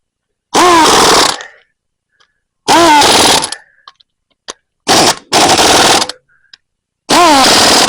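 A power tool seats the bolts on a baler hydraulic cylinder during a rod seal installation. It runs in several loud, close bursts of one to two seconds each, with short quiet gaps and faint clicks between them.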